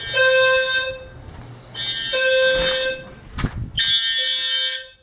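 A fire alarm system sounds during a test with loud repeating electronic horn tones. They come in steady pulses, with short gaps and some clattering noise between them, and no talking.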